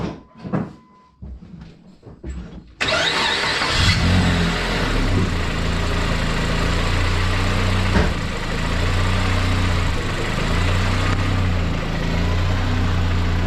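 A car engine fitted with a GT35 turbo cranks and catches after a few quiet clicks, then runs loud and rough at idle with a brief rev, continuing close and steady.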